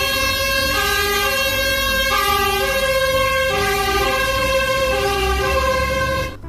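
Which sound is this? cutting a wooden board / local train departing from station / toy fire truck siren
toy fire truck siren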